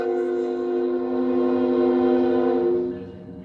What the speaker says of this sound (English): Here comes a train. I live right by a train track